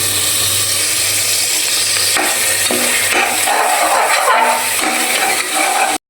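Masala for a Hyderabadi biryani fries in a pan and is stirred continuously: a loud, close, steady sizzle with scraping and stirring strokes throughout, ending abruptly.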